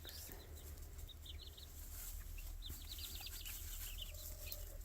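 Young free-range chickens outdoors give soft, repeated high chirps and clucks in scattered bursts over a steady low background hum, moderately near.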